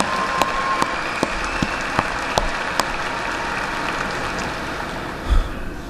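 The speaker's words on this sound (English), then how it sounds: "Can we get one more round of applause for the graduates today?" Steady applause for graduates fills a large hall at a university spring commencement, a continuous even clatter of many hands with a few sharper claps standing out.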